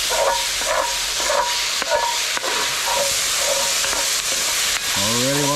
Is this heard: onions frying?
yes